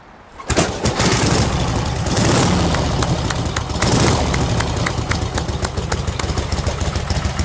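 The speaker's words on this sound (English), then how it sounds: "let's see if this one starts on one kick" A 1947 Harley-Davidson Knucklehead motorcycle engine kicks over and catches after a brief quiet moment, then settles into a loud, close, steady idle with a lumpy, uneven beat that lasts throughout.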